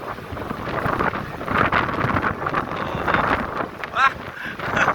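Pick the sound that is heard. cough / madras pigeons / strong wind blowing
strong wind blowing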